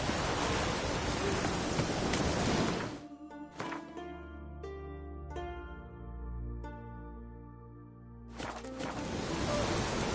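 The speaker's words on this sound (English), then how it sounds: "raining fucking buckets." Heavy rain pours in the Witcher video game as a dense, steady hiss, cut off in the middle by a stretch of soft tonal game sounds before the downpour returns.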